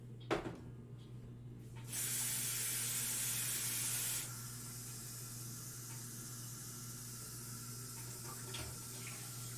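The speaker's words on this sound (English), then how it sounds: "we're going to put 24 ounces of water in there" Water pours into a pot of rice, a steady rushing splash that starts after a short clunk, holds loud for a couple of seconds, then drops to a quieter trickle over a low background hum.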